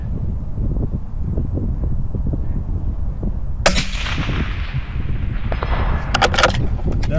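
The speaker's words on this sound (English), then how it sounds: "As you can see, the gun is very consistent." A rifle fired at a distant target from a rooftop gives one sharp, loud crack with a rolling echo tail, set against steady wind rumble, followed by a few light mechanical clicks.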